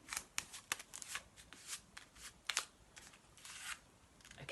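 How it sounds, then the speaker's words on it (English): Paper being rolled into a small tube around a drinking straw and fastened with strips of sellotape gives soft crinkles and quick tape rips, several short bursts scattered close by with no talk. "roll the paper very carefully around it to make a little tube, and hold the long edge of the tube with a strip of sellotape"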